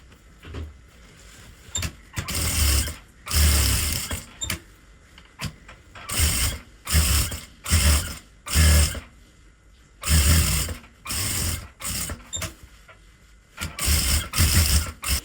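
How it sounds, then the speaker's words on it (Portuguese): A sewing machine runs in repeated short bursts, stitching the side seam of a fabric notebook cover, each run of fast mechanical whirring separated by brief pauses, loud and close with no talk. "E vamos passar uma costura nessa lateral"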